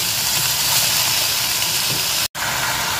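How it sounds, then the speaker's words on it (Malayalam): Washed chicken pieces drop into a hot pan for a spicy chicken roast, setting off a loud, dense, continuous sizzle close up that briefly cuts out near the end, with no talking. "ഇപ്പം ഞാൻ കഴുകി വൃത്തിയാക്കി വെച്ച ചിക്കൻ പീസസും കൂടെ ഇട്ട് കൊടുക്കുകയാണ്."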